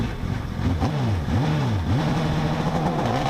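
A race car at a British hillclimb championship launches off the line, its engine note rising and falling in repeated rev sweeps as it pulls through the gears, heard over a steady background rumble.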